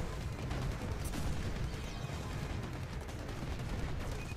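Dense, continuous video game battle gunfire from Empires and Allies, rapid overlapping shots and booms at moderate volume throughout with no voices.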